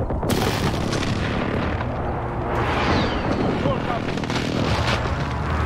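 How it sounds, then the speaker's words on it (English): Precision airstrike explosions rumble through a video game battle, a continuous heavy wash of deep booms and blasts with sharper impacts mixed in, loud and close. "Enemy precision airstrike inbound."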